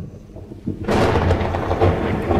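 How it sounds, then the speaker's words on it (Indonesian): Loud thunder cracks in and rolls on during a rainy-season storm, a broad rumbling boom after a quiet start, with rain beneath it and no talk. "Petir juga menggelegar dengan keras."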